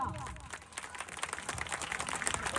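Crowd applause at a Republic Day fire rescue demonstration in an industrial plant grounds, a moderate round of clapping building across the moment with some voices mixed in.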